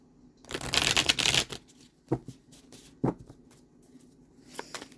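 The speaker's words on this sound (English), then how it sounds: "I'm going to pull some clarifiers with the Gilded Tarot here" A Gilded Tarot deck riffled in a loud, close shuffle lasting about a second, followed by a few soft single card snaps and slides as cards are drawn.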